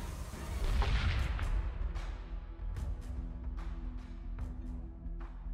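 Ships trade weapons fire in a space battle from Battlestar Galactica: Deadlock, a rapid series of sharp cannon bursts and booms repeating about every half second over a steady low rumble, fairly loud, with no talking.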